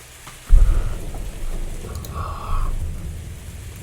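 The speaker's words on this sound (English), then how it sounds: "thunder rolling in the background." Thunder booms during a storm at sea, a sudden low crack followed by a deep rolling rumble that swells again before fading, with rain hissing faintly underneath.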